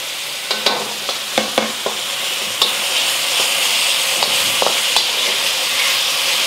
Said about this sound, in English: Just stir fry for another 30 seconds or so until you smell the garlic